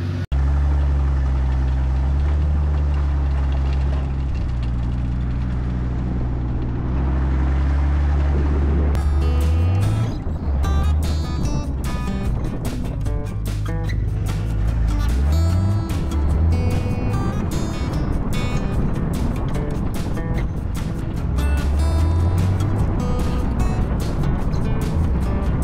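A Ford 300 inline-six with an EFI swap drives on a road in start-and-stop traffic, its low engine drone steady and close, with rising and falling revs as it shifts and accelerates.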